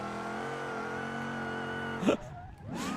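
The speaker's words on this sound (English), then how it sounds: "It's a uniquely loud supercharger on this one." A supercharged car engine in the BeamNG.drive driving game holds a loud, steady high rev with a strong whine, then drops sharply near the end with a brief squeal before climbing again, close and alone.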